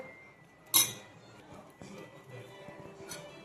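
A spoon clinks against a dish while honey is mixed into food, with one sharp clink standing out early and softer scraping taps following, close and fairly quiet, with some faint background talk.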